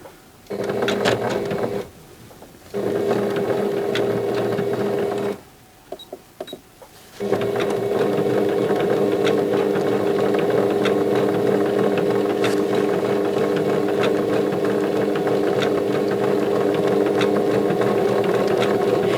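A sewing machine stitches down appliqué fabric in a white-edged gnome table runner, its whirring motor starting and stopping in short bursts, then running steadily and loudly to the end.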